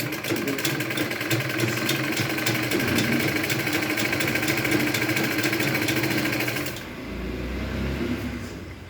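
Domestic sewing machine stitching cloth, a steady fast mechanical whir and rattle running continuously for several seconds and then dropping to a lower, quieter hum near the end, with no talking.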